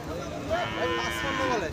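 A cow moos at a cattle market, one drawn-out low moo rising and falling over the busy murmur of the crowd and background voices.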